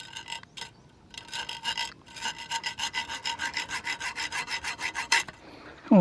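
A dull hand saw rasps through wood in a steady back-and-forth rhythm, rough and scraping, with a brief pause early on; close and alone.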